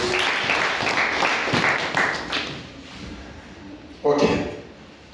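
A church congregation applauds at a sermon, with dense, uneven clapping and chatter of voices that fades midway, then a short louder burst of claps near the end.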